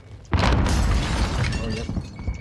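A grenade detonates in Call of Duty Cold War Warzone, a sudden loud, broad blast that rumbles and crackles with debris for about two seconds.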